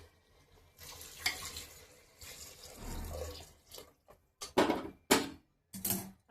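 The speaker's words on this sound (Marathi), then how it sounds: "आणि ह्याच्यातच पाणी ओतून घेऊ आपण." Heated water poured into rice in a pot for chicken biryani comes as gushing splashes and trickles, first in longer pours, then in short bursts with brief silences between them, nearby and fairly loud.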